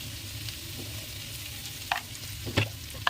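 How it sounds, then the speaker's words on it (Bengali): Long-sliced capsicum sizzles in a pan for egg chowmein, a steady frying hiss with a few sharp scrapes and taps of a stirring utensil near the end. "এই যে ক্যাপসিকামটা দিয়ে দেবো লম্বা লম্বা করে কেটে নিয়েছি একটু নাড়াচাড়া দিয়ে"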